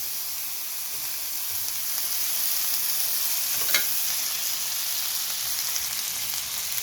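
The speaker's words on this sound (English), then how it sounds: "Drop your butter in there." Butter sizzling in a cast iron pan with filet mignon, a steady close hiss of frying with a brief clink partway through, no voices.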